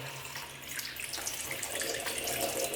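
Water rinsing leftover paint out of the parts of a Wagner Control Pro 350 paint sprayer, a steady close hiss of running tap water splashing over plastic in a sink.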